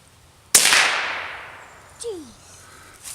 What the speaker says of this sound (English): William's first shot with the 22 ever.